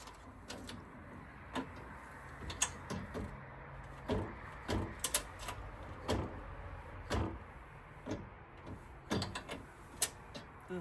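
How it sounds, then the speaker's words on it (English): A storage drawer from an American Adventure Lab MASS platform drawer system in a Jeep JL slides and knocks against screws, giving a series of irregular close thumps and rattling clunks with no talk. "Drawer was hitting the bolts or the screws that are in here."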